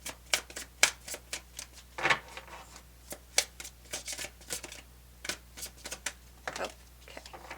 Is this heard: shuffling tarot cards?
yes